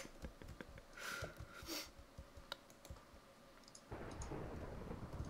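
A thunderstorm in the video game Minecraft brings a steady hiss of rain with rumbles of thunder, alongside faint keyboard and mouse clicking and no talking.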